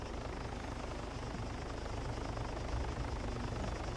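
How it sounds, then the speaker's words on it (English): A video game helicopter's rotor chop and whine hold steady and fairly loud, flying close overhead with a continuous rumbling beat. "here comes the helicopter"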